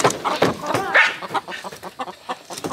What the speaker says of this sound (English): We just got home with 9 new chickens.